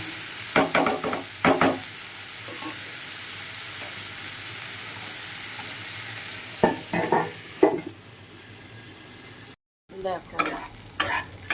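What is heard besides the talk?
frying snake gourd with salt, turmeric, green chillies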